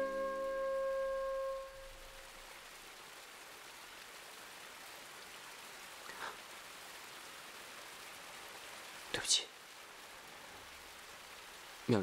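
Rain falls steadily outdoors, a soft, even hiss throughout, with a brief tonal sound at the start and a couple of faint knocks later.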